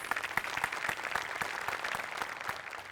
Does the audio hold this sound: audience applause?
yes